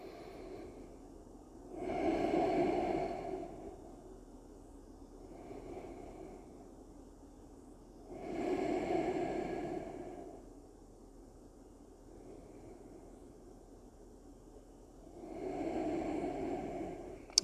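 Three slow, deep breaths during a hatha yoga class, each a long airy rush a few seconds long, spaced evenly with quiet pauses between them, close to the mic and unaccompanied by speech.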